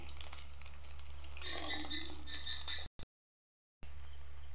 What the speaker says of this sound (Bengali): এই যে এগুলো ডিপ ফ্রাই হচ্ছে।